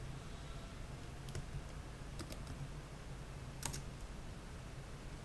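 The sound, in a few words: typing the reload command on a computer keyboard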